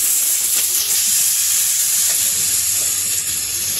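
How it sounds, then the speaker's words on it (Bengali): Bitter gourd frying with potato, onion and turmeric, a steady close sizzle with soft bubbling and faint stirring that holds evenly throughout. "প্রথমে হইতেছে যে করলা ভাজি করবো আলু দিয়ে মিশিয়ে"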